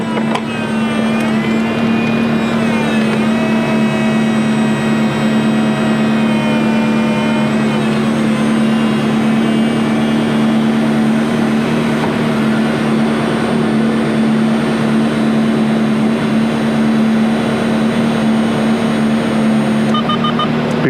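A 2004 Ferrari 360 Spider F1 convertible sits with its engine idling while the power top retracts, a steady low engine drone under a whining mechanism that sweeps in pitch, and a beeping chime near the end.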